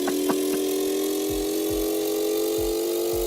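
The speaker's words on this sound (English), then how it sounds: "this is what a 90-degree engine sounds like" A 90-degree engine in GearBlocks, a steady droning hum at a constant rev with a few short knocks and thumps along the way.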